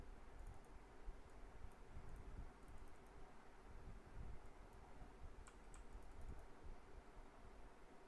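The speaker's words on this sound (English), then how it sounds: "for username I will be just typing my name" Typing a username on a computer keyboard during a Linux installation on a virtual machine, quick faint clicks and taps scattered over a soft background hiss, close but quiet, with no talk.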